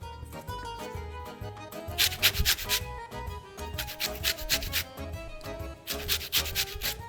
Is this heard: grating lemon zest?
yes